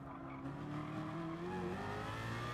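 A BMW M3 race car in a racing video game slides sideways out of a chicane at Spa, its engine droning steadily with a steady tire hiss. Other cars can be heard close by, and the whole thing is continuous and moderately loud.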